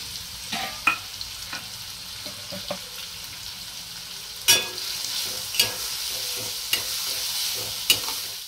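Finely chopped onions sautéing in oil for paneer bhurji, a steady close sizzle punctuated by sharp spatula scrapes and taps against the pan every second or so.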